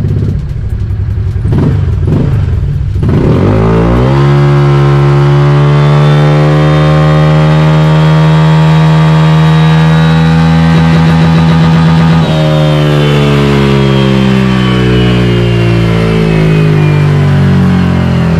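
A stock-CVT motorcycle on a dyno roars loudly through a baseline run: after a few choppy blips the engine climbs steadily in a long sustained rev, holds near the top as it limits, then eases slightly, alone and close.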